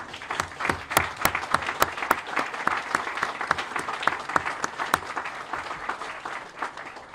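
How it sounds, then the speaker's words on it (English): An audience applauds the governor at an ocean technology grant announcement, with distinct, fairly sparse hand claps ringing out close by over a steady, softer patter of clapping throughout. "I would like to give the governor another round of applause"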